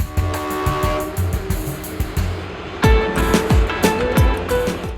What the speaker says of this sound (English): The Kalka-Shimla toy train covers about 60 miles, passing through tunnels, bridges, and charming old stations